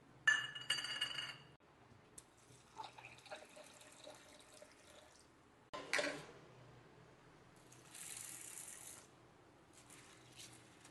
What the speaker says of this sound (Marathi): आता ती चना डाळ स्वच्छ पाण्याने 2 पाण्याने धुवून घेणार आहे मी.